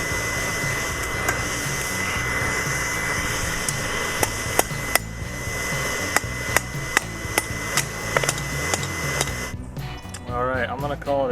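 Hammer forging machete blades in a workshop, a steady run of sharp metallic strikes at irregular intervals over a constant loud blower or grinder hum, with a voice talking briefly near the end.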